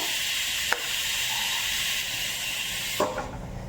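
Steady hissing sizzle of tempering spices frying in hot oil for a tomato curry, continuous throughout with a couple of brief clinks of a utensil.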